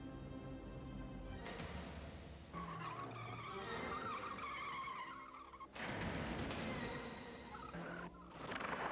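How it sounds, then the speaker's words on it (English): Car tires, Continental, skidding during stunt driving tests: loud sustained tire squeals in several long bursts with engine noise beneath, close and intense. "a stunt driver puts Continental tires through their paces"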